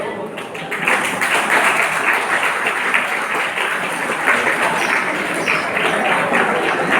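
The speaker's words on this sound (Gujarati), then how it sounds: "અમે તાળીઓ ચાલુ રાખશું." At a Jain boarding school, an audience claps for a primary-section Standard 7 student's correct answer. The dense, steady applause swells after the first second and keeps going without a break.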